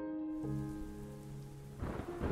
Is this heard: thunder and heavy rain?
yes